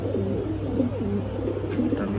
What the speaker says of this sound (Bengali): বিগ সাইজের একটা মাদি কবুতর।